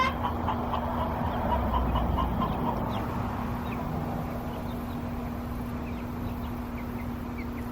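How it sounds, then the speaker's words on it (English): Steady clucking from a group of chickens outdoors in Texas, fairly faint, with a constant low hum underneath. "Texas chickens."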